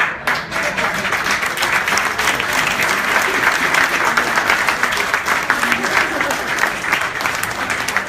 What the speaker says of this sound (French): On peut encore les applaudir tel que vous venez